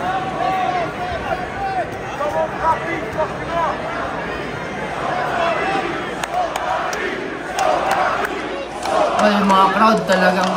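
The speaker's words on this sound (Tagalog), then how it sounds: "Crowd talagang ano eh, support kay Salt Papi." A boxing arena crowd at a Salt Papi fight against Anthony Taylor roars and cheers in a dense, continuous wall of noise, with shouting and chatter swelling louder toward the end.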